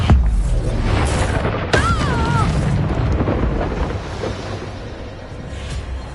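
A Bombarda spell explosion in the game Hogwarts Legacy, a sudden booming blast followed by a whooshing, crashing tail that fades slowly under combat ambience, with a brief whistling shriek during the fade.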